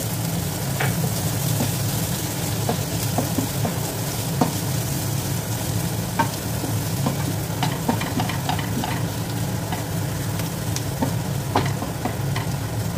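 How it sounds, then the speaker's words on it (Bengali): Ginger strips soaked in vinegar fry for a prawn moilee, a low steady sizzle under repeated scraping and tapping of a utensil stirring in the pan, nearby and without talk. "একটু ভালোভাবে একটু নেড়ে চেড়ে ভেজে নেব।"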